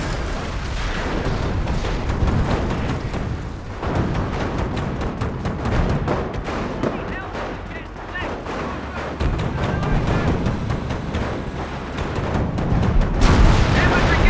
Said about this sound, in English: Artillery coming down.